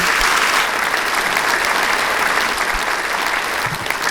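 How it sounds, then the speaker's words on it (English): A crowd claps steadily and loudly as a speaker is welcomed to the podium, dense sustained applause filling the whole stretch without letting up. "Let's keep that round of applause going"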